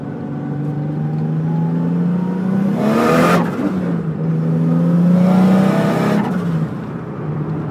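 Nissan S14 with an RB30DET engine running 14 lbs of boost, accelerating hard in second gear from inside the cabin: a loud, rising engine drone climbs steadily, breaks briefly at a shift near the midpoint, then climbs again.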